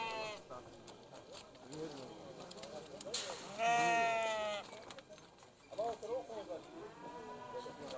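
Sheep bleat at a city livestock market in Kyzylorda, with several close, wavering calls overlapping one another amid people talking nearby.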